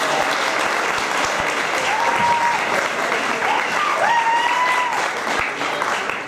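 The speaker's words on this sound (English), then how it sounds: "So can we all give a round of applause to Katie?" Audience applause at a speech event fills the clip with steady, dense clapping from a large crowd, with a few whistles and voices calling out over it.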